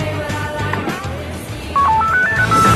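A phone finder gadget for the office sounding its ringtone, a short rising sequence of electronic beeping tones heard over background music in the final second or so.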